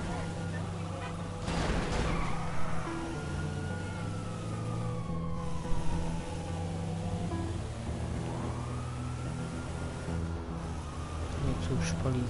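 Police sirens wail in rising and falling sweeps while officers chase the player in GTA 5 Online, layered over a low engine rumble, with a voice talking now and then under the game sound.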